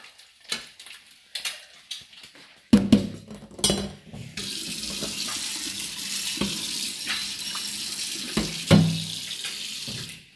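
A tap runs steadily into a sink while dirty dishes are washed, with clattering knocks of pots and utensils, first in short bursts, then a continuous close rush of water broken by occasional clinks.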